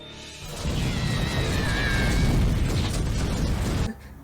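A sustained explosion rumble from a Star Wars The Clone Wars episode rolls on for about three seconds, loud and dense with low-end roar and crackling debris, then cuts off abruptly.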